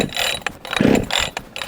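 Starter rope yanked on a Jonsered 2253 chainsaw with the chain brake on, giving quick ratcheting, whirring pulls with the engine turning over but not firing, close by and with no speech.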